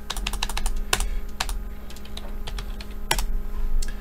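Steady typing on a computer keyboard while a source name is entered in OBS Classic, a rapid irregular run of sharp close clicks lasting several seconds, with a few louder strikes, over a faint constant background hum.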